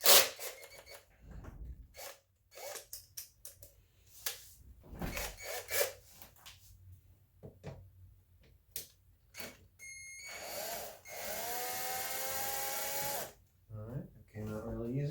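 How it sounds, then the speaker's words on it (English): Power drill running in a sustained whir for a few seconds while backing screws out of an electronic analog keyboard, preceded by scattered clicks, rubbing and handling knocks of the instrument's casing. "use the power drill to screw them back in"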